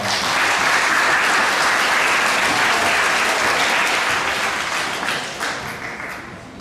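Assembly audience applauding 8th grade honor roll students at a middle school awards ceremony: dense, loud clapping from a crowd that holds steady, then thins and fades toward the end.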